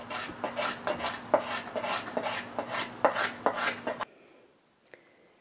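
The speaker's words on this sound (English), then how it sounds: "Scraping the violin adds so much tiny dust, I decided to go outside." Steel scraper shaving a spruce violin top outdoors, a quick series of close, rasping strokes in a steady rhythm for about four seconds, followed by near silence with a faint distant sound.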